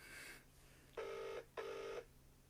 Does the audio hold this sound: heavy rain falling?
no